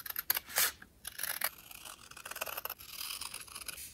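Scissors cutting a printed photo into a rectangle for a Hobonichi journal page, close and quiet, with a series of crisp snips and papery scratches in an uneven rhythm, no talking.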